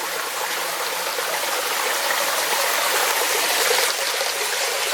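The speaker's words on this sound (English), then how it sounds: "I gotta remember to get a photo of the waterfall." A waterfall beside an E&N Railway trestle in fog gives a loud, steady broadband rush with no pauses and no voices.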